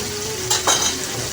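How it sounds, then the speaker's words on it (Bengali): Spice paste of red chilli and turmeric powder frying in a pan for Nepali-style parshe fish curry, a steady soft sizzle with two brief louder stirring scrapes midway, close and without talk. "পরিমাণ মতো নুন দিয়ে মশলাটি আমি ভালোভাবে কষিয়ে নেব"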